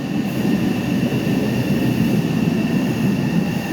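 A six-car subway train runs through Roxbury Crossing T station with a steady, dense rumble of wheels and cars, loud and continuous and close by, with a faint high tone above and no voices.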